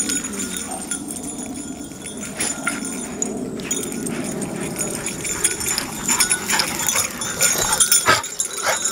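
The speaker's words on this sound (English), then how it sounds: "Happy dogs." Several dogs run and play in an open field, with scampering, panting and jingling tags close by, busy and uneven throughout, plus a short thump near the end.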